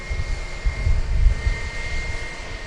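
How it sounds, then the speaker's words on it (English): An Airbus A321 jet taxis at DFW Airport, its engines giving a low rumbling drone with a thin steady whine riding above, fluctuating gently in loudness at moderate distance. "There's an Airbus A321 snappily making its way"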